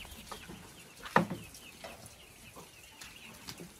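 Chickens cluck in a farmyard where buffalo and cows are also kept, one short sharp burst standing out above a low, steady outdoor background, with no talking.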